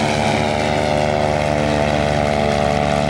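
A vintage propeller aircraft at an Old Rhinebeck airshow drones steadily and loudly, a continuous engine hum with strong tonal harmonics and no talk.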